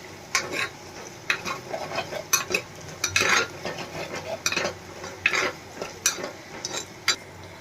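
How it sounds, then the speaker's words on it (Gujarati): Garlic, chili and masala paste fries in oil while being stirred for a Kathiyawadi-style potato curry, with repeated bursts of spoon scraping against the pan over a soft sizzle, close and fairly loud. "આપણે બે મિનિટ ચટણીને આમ જ પાકવા દેશું તેલમાં"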